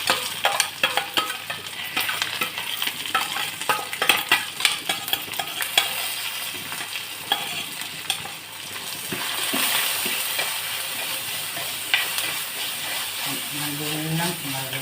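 Ginger, garlic, shallots and green chilli sautéing in a pan for a thazhuthama leaf thoran, a steady sizzle with frequent stirring and scraping taps throughout, fairly close, with a voice talking in brief stretches.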